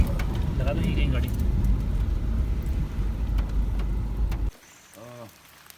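A car rolls in to park at a jungle homestay cafe, a sustained low engine and tyre rumble lasting several seconds that cuts off abruptly, followed by a brief voice.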